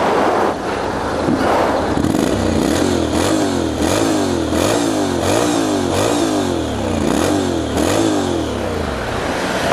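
A Honda X-ADV 750 scooter with its stock exhaust idles and revs after starting, a loud close engine rising and falling in repeated throttle blips over the whole stretch.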